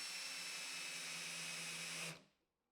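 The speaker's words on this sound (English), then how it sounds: "drill a pilot hole for the screw" A power drill whirs steadily at high speed for about two seconds, drilling a pilot hole in plywood, then winds down abruptly and falls quiet.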